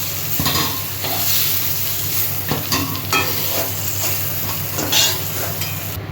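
Eggplant sizzles and fries in hot oil in a pan, a steady crackling hiss with occasional stirring scrapes, close and continuous without talk.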